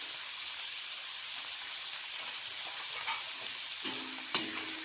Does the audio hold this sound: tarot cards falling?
no